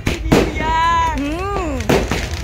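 New Year's Eve fireworks burst at Mandarmoni, with two sharp, close bangs about a second and a half apart. An excited voice calls out between them.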